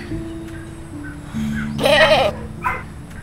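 A goat lets out one loud, wavering bleat close by, followed by a brief shorter bleat, over a quiet background hum.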